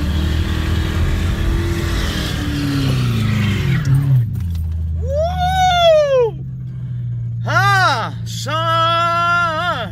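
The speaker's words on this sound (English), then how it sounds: "this is a good place, really, to do a burnout." A 1996 Ford Thunderbird LX with a 4.6 L V8 does a burnout, its engine droning and rising in pitch, then revving hard in repeated sweeping bursts near the end, loud and close.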